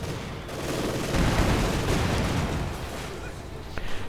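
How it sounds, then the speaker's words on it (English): Mortar shells from a German mortar pound field gun positions in a World War II strategy game, a dense rumbling barrage of booms and bursts running steadily throughout. "Field guns here getting bombarded with a fresh German mortar"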